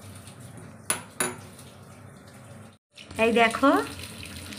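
Chicken is washed under running water in a kitchen sink: a couple of sharp clatters of dishes come first, then a near, loud gush of tap water as someone speaks briefly.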